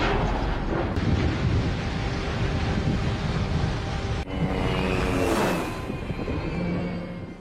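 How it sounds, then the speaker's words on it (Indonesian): A massive bomb blast in a dramatic scene, heard as a sustained, loud, rumbling roar that fills the whole clip, with a sharp renewed burst midway and a thundering wash that slowly tapers off, no voices present. "akhirnya bom itu meledak dengan sangat dahsyat dan menghantam mereka semua"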